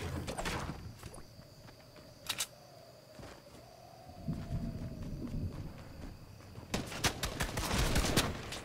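Scattered gunshots crack at intervals in the game Fortnite, several sharp bursts near the start and a denser volley toward the end, over a low hum.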